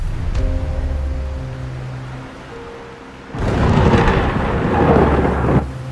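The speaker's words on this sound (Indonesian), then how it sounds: "Malam harinya, hujan lebat pun turun." Heavy rain pouring down at night, steady broadband hiss that swells loud in the second half with a deep rumble like distant thunder underneath, no voices.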